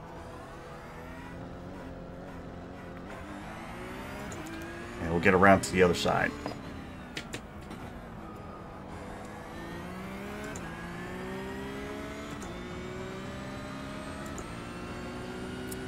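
A Porsche Cup race car engine drones and revs in a racing video game, rising and falling through gear changes over about sixteen seconds, with a louder burst partway through. Someone talks over it throughout.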